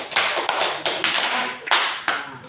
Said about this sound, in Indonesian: mari kita semua tepuk tangan